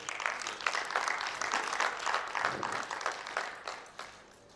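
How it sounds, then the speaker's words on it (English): Audience applause at a Nigerian internet society chapter relaunch event fills the room with continuous, moderately loud clapping that holds steady and tapers slightly near the end. "So I think we should clap for him again."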